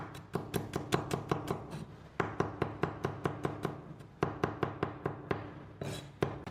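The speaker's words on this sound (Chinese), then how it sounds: "然后再给它剁成蒜末" A kitchen knife mincing smashed garlic cloves on a cutting board, with quick steady chopping taps in three fast runs separated by brief pauses, close and clear.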